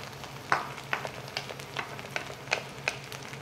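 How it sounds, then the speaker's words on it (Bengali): Pre-fried egg added to rice in a frying pan and stirred, with a soft continuous sizzle broken by about ten sharp, evenly spaced spatula scrapes and clinks close by. "এবার আমি এগটা যেটা আমি ফ্রাই করে রেখেছি সেটা আমি অ্যাড করব।"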